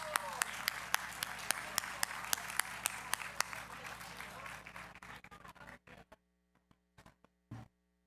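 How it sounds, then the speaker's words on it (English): Applause at a university hall of fame gala, with sharp individual claps standing out over a crowd's clapping that thins and fades to scattered claps and near silence, with a low mains hum underneath. "So let's give it a round of applause."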